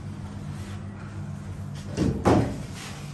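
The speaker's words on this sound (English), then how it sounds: "The door is closing." A lift door in a mall lift lobby slides shut over a low steady hum, with a short rush and a louder thud near the end.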